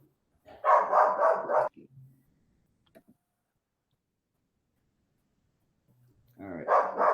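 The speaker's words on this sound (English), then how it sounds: "Sorry about the dog." A dog barks in two loud bursts, one near the start and one at the end, separated by near silence, indoors during a town committee video meeting.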